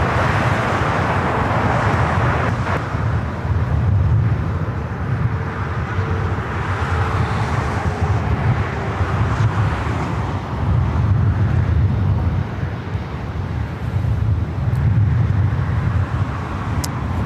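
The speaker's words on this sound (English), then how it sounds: "This is Emirates Flight 216 heading back to Dubai in this A380 Super" An Emirates Airbus A380 jet at LAX airport, a loud continuous engine roar that swells and eases in waves over about seventeen seconds.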